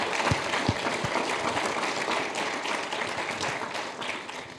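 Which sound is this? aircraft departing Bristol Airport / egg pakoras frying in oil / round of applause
round of applause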